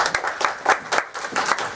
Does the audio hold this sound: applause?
yes